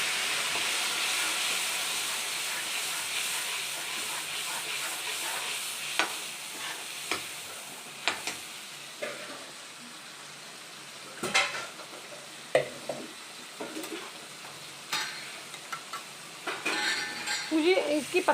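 Onion, ginger-garlic paste and spices frying in a pan, a steady broadband sizzle and hiss throughout with occasional sharper stirring clatters and scrapes, louder toward the end.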